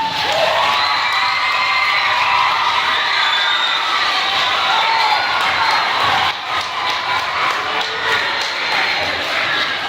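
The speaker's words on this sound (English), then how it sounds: "I want you to give yourselves a big round of applause" Schoolchildren at a leadership day event cheer and shout loudly with applause mixed in, a dense, high-pitched crowd roar of many young voices that stays strong throughout with a brief dip near the middle.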